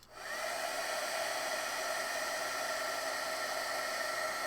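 A heat tool blows steadily and loudly, melting ultra thick embossing powder, a constant whooshing hiss that starts abruptly and runs unbroken with no talk.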